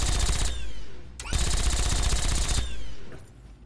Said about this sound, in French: Si, c'est une tourelle.